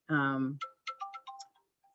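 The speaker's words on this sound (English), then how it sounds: "Sorry about my phone" A mobile phone ringtone plays a short electronic melody, a sustained tone followed by several quick chirping notes, loud and close with no voice over it.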